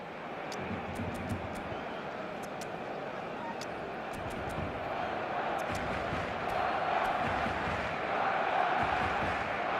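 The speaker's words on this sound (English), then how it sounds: "certainly gave this crowd something to really cheer about" A stadium crowd roars and murmurs in an eFootball soccer match, a steady broad wash of cheering that swells slightly toward the end, with faint whistles and commentary voices over it.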